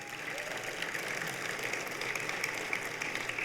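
An audience claps throughout at a university athletics hall of fame induction ceremony, a dense, steady patter of many hands heard from a distance.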